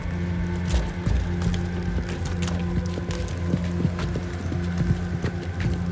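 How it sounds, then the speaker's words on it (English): Footsteps of a character in a co-op video game mission on extreme difficulty: a steady run of soft, evenly paced steps, close by, over a constant low in-game hum and ambience. "All I can hear is your footsteps."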